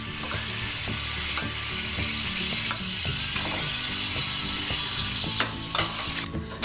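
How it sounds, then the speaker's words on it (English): Shrimp cook in a frying pan after a splash of wine, with a loud steady sizzle, spatula scrapes and clinks as the pieces are turned, and a few sharp knocks; nobody speaks. "the shrimp starting to get cooked around the edges, so that means one side's done. So you like to flip it all, maybe add a little bit of wine around it"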